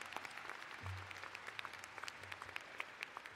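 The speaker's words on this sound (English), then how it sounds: "give our teachers, our faculty, another round of applause." Steady applause from a crowd at a graduation ceremony, many hands clapping continuously at moderate volume, with no voices standing out.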